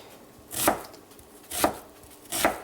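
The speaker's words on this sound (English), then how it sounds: "First step is to chop some onions." Three crisp knife chops through onions on a cutting board, evenly spaced about a second apart, close and distinct against a quiet room.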